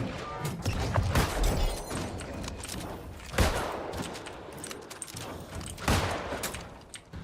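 Rapid bursts of gunfire and heavy impacts in the video game New World, with a grenade blast among them, loud and dense with a few separate thumps.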